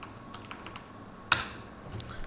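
Keys clatter softly as a password is typed on a computer keyboard, a steady patter of light taps with one sharper, louder keystroke near the middle.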